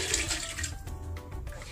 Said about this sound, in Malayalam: അതിലേക്ക് നമുക്ക് ഈ കുക്കറിലുള്ള ഗ്രേവി ഇതിലേക്കങ്ങ് ഒഴിച്ചു കൊടുക്കാം